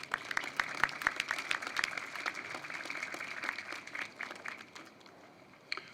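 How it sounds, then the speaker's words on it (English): A round of applause from the crowd at an outdoor Veterans Day ceremony in Arlington, heard faint and distant as scattered claps patter on for several seconds before thinning out. "Please give them a round of applause."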